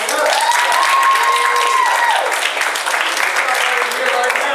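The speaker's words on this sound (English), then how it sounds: "give yourselves a round of applause for showing up" An audience at a civic talk in Chicago claps throughout, with a steady, dense wash of hands. A whistle or tonal sound runs across the first half, and voices mix into the applause.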